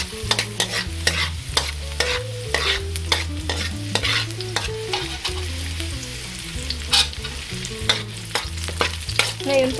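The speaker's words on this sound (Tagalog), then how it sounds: "umpisahan na po natin gisahin tong ating bawang. Tapos hahaluin lang natin siya hanggang sa medyo golden brown na po yung ating bawang." Garlic sautés in hot oil in a pan for ginisang sardinas with chayote, a steady sizzle broken by frequent scraping, clanking stirs of a utensil against the pan, close and fairly loud with no talking.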